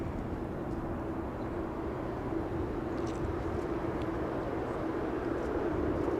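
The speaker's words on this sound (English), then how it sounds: "The United Airlines 777 in the distance" A distant United Airlines Boeing 777 at Los Angeles International Airport makes a faint, steady low rumble of jet engine noise that holds evenly throughout.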